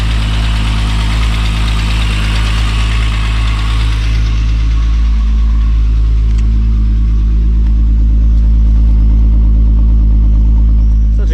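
A turbocharged VR6 wagon engine runs loud and close, a dense low rumble with steady idle and a slight rise in revs, while a voice talks faintly beneath it.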